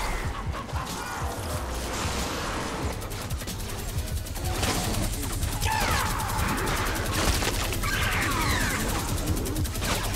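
Dense, rapid minigun fire from Fortnite: Save The World while fighting Mist Monsters during the Luck Of The Storm event: a continuous loud rattling stream with scattered impacts and mechanical whirring throughout.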